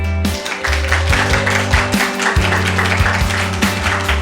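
Loud, sustained clapping from a lecture audience at a televised history class about Dokdo, a thick continuous patter of hands over a steady low tonal hum.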